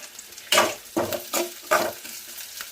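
Vegetables frying in a pan, stirred in a rhythm of about five bursts of loud sizzling and scraping, close by, with quieter hiss between strokes.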